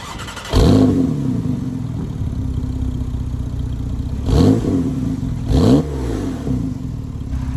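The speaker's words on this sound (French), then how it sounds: "on va démarrer la voiture" A Porsche 911 GTS engine cranks and fires into a loud rev, settles into a steady idle, then blips twice more. The sound is close and clear, with no voices.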